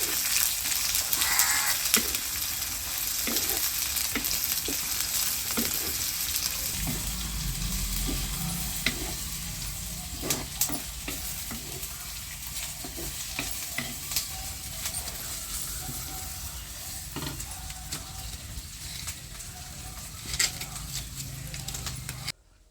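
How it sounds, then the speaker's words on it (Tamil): Onions sauté in oil with mustard seeds in a village-style cumin kuzhambu, a steady close sizzle broken by frequent scraping clicks of a stirring spoon against the pan. "இப்போது வெங்காயம் நல்லா வதங்கிட்டோம்"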